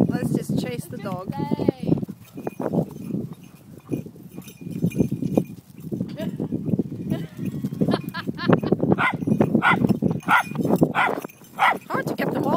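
A Labrador, a deerhound and a fox terrier chase around, with repeated barks and scuffling over people talking and calling throughout.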